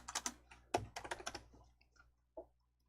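Quick bursts of typing on a computer keyboard during a DIAT Hangul word-processing exercise, close and fairly quiet, a cluster of clicks followed by a pause and one last keystroke.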